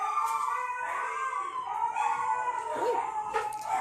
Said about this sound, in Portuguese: Ó os cachorros latindo